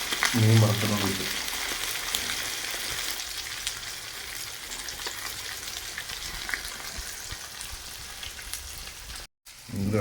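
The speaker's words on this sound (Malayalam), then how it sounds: "മീനും കൂടെ വറക്കും." Fish sizzles steadily in hot oil in a pan in a home kitchen, a continuous crackling hiss that stays fairly loud before a brief dropout near the end.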